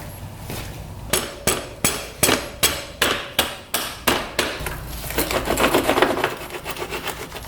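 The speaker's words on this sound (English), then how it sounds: "Now this whole thing can be pounded out." Hammer pounding a part out of a dirt bike, about a dozen evenly spaced loud metallic blows ringing close by, then faster, softer rattling taps toward the end.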